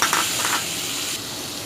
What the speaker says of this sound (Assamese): ইয়াতে মই পনীৰখিনি ফ্ৰাই কৰি ল'ম।